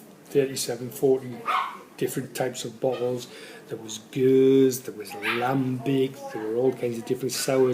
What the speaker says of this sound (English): Sorry for the dogs in the background again